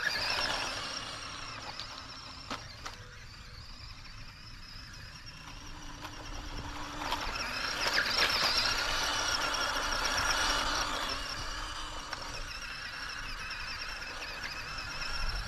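MN82 Land Cruiser RC scale truck running at top speed over a rain-soaked forest floor, a continuous high electric motor whine with gear noise that swells and eases slightly, steady and moderately close.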